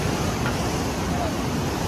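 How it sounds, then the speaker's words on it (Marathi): Rough sea surf pounds a shore at a mullet fishing spot, a loud continuous roar of breaking waves mixed with wind noise on the microphone, with no gaps throughout. "समुद्र बघताय कसा भयानक, एकदम समुद्राचा"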